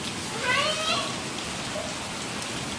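Steady rain hissing down on surfaces, a dense even wash of drops, with a faint voice briefly rising above it.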